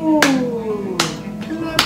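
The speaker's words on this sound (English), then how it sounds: "We're gonna be modeling how to clap for your baby." A parent claps hands to show a six-month-old baby how to clap, four sharp claps spaced unevenly and close by, with a soft tonal toy-like sound ringing underneath.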